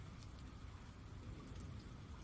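Steady rain falls evenly on a surface, a soft continuous patter with scattered drops, fairly faint and unbroken, with no voices.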